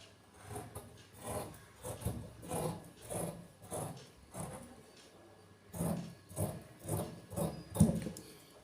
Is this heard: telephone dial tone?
no